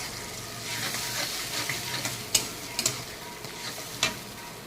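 Tomato, mustard-poppy paste and spices fry in a pan with a continuous close sizzle, broken by a few sharp clicks and scrapes from a stirring spoon near the end.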